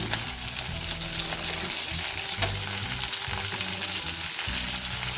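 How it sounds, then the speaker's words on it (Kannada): Curry leaves and chopped cluster beans fry loudly in a hot pan for chutney, a dense continuous crackle with stirring scrapes and no talk over it. "ಕರ್ಬೇವು ಸೊಪ್ಪು ಹಾಕೊಳ್ಳೋಣ ಜೊತೆಗೆ ಕಟ್ ಮಾಡ್ಕೊಂಡಿರೋ ಚೌಳಿಕಾಯಿ ಕೂಡ ಸೇರಿಸ್ಕೊಳ್ಳೋಣ"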